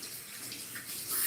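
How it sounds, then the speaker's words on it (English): Hands being rinsed under running tap water in a kitchen: a steady, close hiss of flowing water with slight splashy variation, growing a little louder at the end. "I can just rinse my hands and I don't have to use soap"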